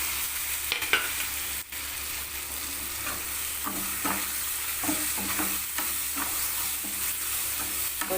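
Dry red chilies, curry leaves and tomato sauté in a pan for a green gram curry, a steady sizzle of hot oil broken by repeated scraping stirs of a spoon, close and continuous with no talking.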